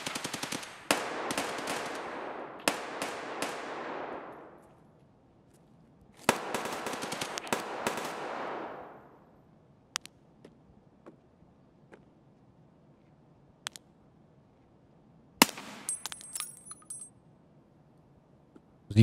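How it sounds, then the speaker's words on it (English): Distant gunfire in a shooter video game, two long rattling bursts of automatic fire with echoing tails, then scattered single shots and a final burst, otherwise quiet. "The hell is he shooting?"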